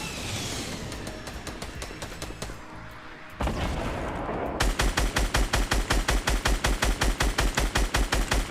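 Gunfire in Fortnite: scattered shots first, then a loud, steady string of evenly spaced rapid automatic rounds that hammers on to the end, with no talk over it.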